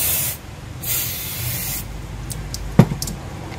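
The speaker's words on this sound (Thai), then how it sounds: "เราต้องหาน้ำยาลอกกาวนะครับหรือว่าสเปรย์ตัวนี้ก็ได้นะครับฉีด" Adhesive remover sprayed onto the glued casing while an Asus EeeBook X205T laptop is being opened: two long, close, steady aerosol hisses, followed by a few short clicks and handling taps.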